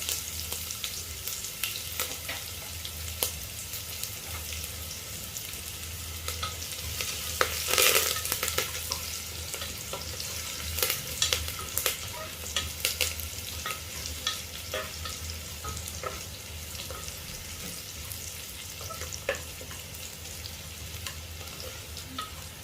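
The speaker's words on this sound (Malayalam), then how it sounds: "ഇതിലേക്ക് കൊച്ചുള്ളി, വറ്റൽമുളക്, കറിവേപ്പില എന്നിവ ഇട്ട് കൊടുത്തു." Shallots, dried red chillies and curry leaves fry in hot oil after mustard seeds pop, a continuous close sizzle with occasional stirring scrapes, for a camel curry.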